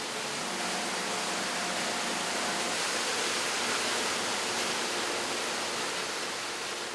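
Finished cheese soaks in salt water to cool in a clean factory setting, with a steady, even rush of running water filling the scene throughout and no voices.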